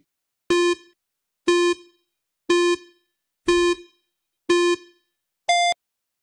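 Quiz-show countdown timer sounding six evenly spaced electronic beeps about one second apart, each short and steady, the last one higher in pitch, with nothing else around them.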